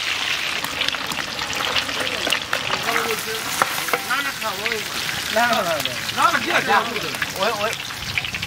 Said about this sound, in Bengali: এখন আমরা মাছ ভাজবো, কড়াই চাপাই দিলাম। সরষের তেল,